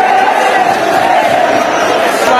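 Rayon Sports football fans in a stadium at Bugesera make a loud, sustained crowd roar, a dense wash of voices and clapping that continues without pause.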